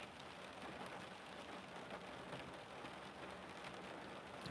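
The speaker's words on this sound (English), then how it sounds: "just listen to the rain" Steady rain falls at night in a dense, even hiss with scattered droplet patter, continuous and close throughout with no voices.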